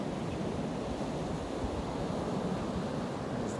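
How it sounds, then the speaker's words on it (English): Ocean waves break at Jennette's Pier on an afternoon in late January, a steady wash of surf mixed with wind rumble, continuous and moderately loud. "As the waves break here at Jeanette's Pier."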